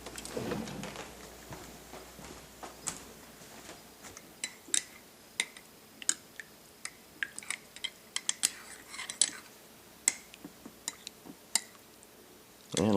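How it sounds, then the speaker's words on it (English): Metal cutlery clinks and rattles in irregular bursts while someone rummages for a spoon, with sharp scattered taps growing busier toward the end over a quiet room. "let me try to find me a spoon"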